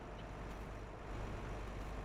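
A tractor engine idles steadily in Farming Simulator 22, a low continuous rumble that stays even and moderately quiet throughout, with no other sounds breaking in.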